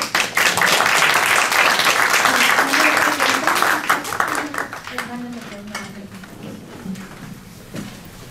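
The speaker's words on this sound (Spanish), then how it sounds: "Un aplauso para ellos, por favor." An audience at a workshop on open innovation claps in sustained, loud applause that gradually thins and fades, with a voice speaking over the dying clapping.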